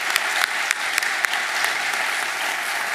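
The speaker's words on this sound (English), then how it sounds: "Let's give all of our honorees another round of applause." Steady applause from an awards-ceremony audience honoring distinguished alumni, a dense wash of clapping that holds evenly throughout with no voices over it.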